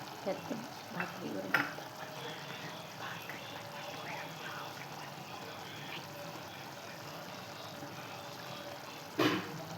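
Chicken kheema with fresh coriander cooking in a pan, a faint steady sizzle with occasional spoon scrapes and clinks, quiet and continuous throughout while a person talks over it now and then.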